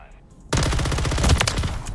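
Automatic weapon fire in Modern Warfare 3 from a gun fitted with the JAK Cutthroat attachment, a loud rapid burst starting abruptly after half a second of quiet and continuing steadily.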